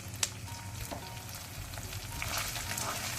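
Ginger and garlic frying in a pan for a green peas pulao, a soft steady sizzle with light crackles and a brief stirring click, quiet and close.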